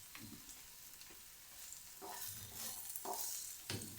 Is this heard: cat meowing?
no